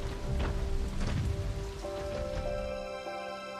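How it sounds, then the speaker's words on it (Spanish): Heavy monsoon rain pours down in a storm, a dense hissing downpour with low rumbling underneath, loud and continuous across the whole stretch. "El monzón durará días."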